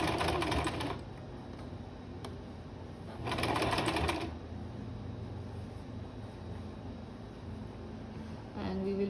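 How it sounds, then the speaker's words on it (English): A sewing machine stitching a fabric face mask, running in rapid mechanical bursts: one near the start, a longer run in the middle and a brief restart at the end, with quieter pauses between. "And we will be sewing it"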